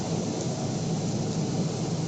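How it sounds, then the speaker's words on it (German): Heavy thunderstorm with rain, a dense, steady roar of downpour and rumbling thunder filling the space evenly and loudly throughout, with no voices. "das mit Gewitter und Weltuntergang, das haben wir hier auch im Moment ziemlich böse"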